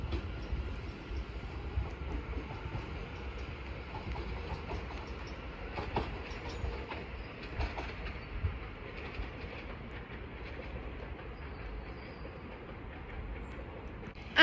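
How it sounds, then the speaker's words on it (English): A London Overground train pulling out of Bethnal Green, heard as a steady low rumble of wheels and motors from close by, with faint clicks of the rails and a sharp burst at the very end. "Now departing is the 11:33 London Overground service from London Liverpool Street to"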